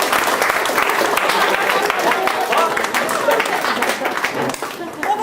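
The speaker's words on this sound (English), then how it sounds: "So round of applause for Neil Griffith." Wedding guests at the speeches break into applause for an usher, a roomful of clapping that holds steady and fairly loud throughout, mixed with chatter and voices speaking over it.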